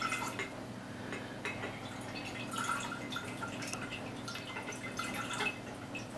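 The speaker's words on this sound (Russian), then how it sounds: "Наливаем воду." Water trickles and splashes steadily as it is poured into a jar, a light continuous liquid sound with small drips.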